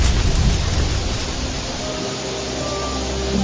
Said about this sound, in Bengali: বৃষ্টি নামছে বৃষ্টি নামছে